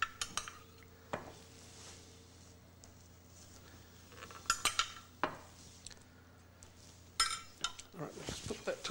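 Food with its vegetables and juices is spooned onto a plate, bringing several distinct clinks and scrapes of metal utensils against the dish, separated by quiet pauses, with a little talk in the background.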